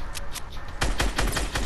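Rapid gunfire in Fortnite, a close, loud burst of repeated shots that grows denser in the second half.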